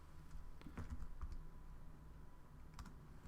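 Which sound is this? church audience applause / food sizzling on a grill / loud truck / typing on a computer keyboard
typing on a computer keyboard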